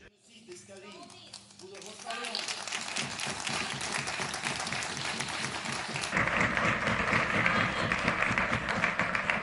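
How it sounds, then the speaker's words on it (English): Applause breaks out in a parliamentary assembly chamber of the Council of Europe, a dense, sustained patter of many hands that builds after a short lead-in of voices and grows louder toward the end. "applause are very much welcomed"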